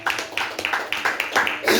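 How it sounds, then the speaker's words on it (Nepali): People clap their hands in a steady rhythm at a surprise birthday celebration at a family home, about eight close, even claps in quick succession. "ताली बजाऊ है"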